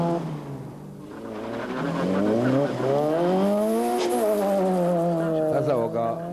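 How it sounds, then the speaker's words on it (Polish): Fiat Cinquecento rally car driving a special stage at the Barbórka Warszawska rally at Stadion Gwardii in 1995, its engine note rising and falling as it revs and slows, loud and close under a commentator's voice. "jeżdżący na samochodzie Cinquecento."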